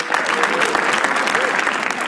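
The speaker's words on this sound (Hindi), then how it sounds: "एक बार होस्ट आशीष सोलंकी के लिए ताली बजाओ सब लोग" A comedy roast audience applauds the host, steady dense clapping filling the whole short stretch with crowd noise and no talk.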